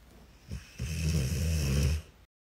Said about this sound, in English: he falls asleep within the first 5 minutes and then snores throughout the entire show